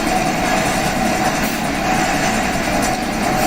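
Steady rumbling roar of a train in the video game Final Fantasy VII Remake, a dense continuous mechanical drone with a faint hum, constant and loud throughout with no talking.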